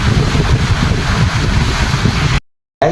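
Steady wind buffeting the microphone, a loud continuous roar that cuts off abruptly near the end.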